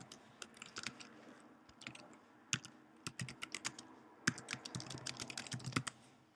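Typing on a computer keyboard while writing code comments, a run of quick, irregular key clicks with bursts of faster tapping, close by and with no talking.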